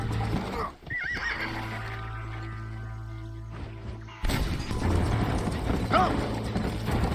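A horse in the video game Red Dead Redemption gallops in a race, its clip-clop hooves pounding under a steady drone, with loud whinnies early and again near the end.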